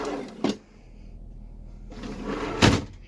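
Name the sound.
kitchen drawers opening and closing in motorhome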